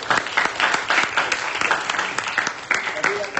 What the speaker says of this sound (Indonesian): Sekali lagi beri aplaus buat kelompok.